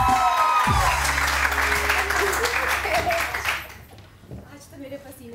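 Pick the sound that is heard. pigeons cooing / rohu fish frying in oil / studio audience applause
studio audience applause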